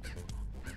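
A chicken in the game Immortal Redneck gives a couple of short, harsh squawks in quick succession, close and clear with no talk over them.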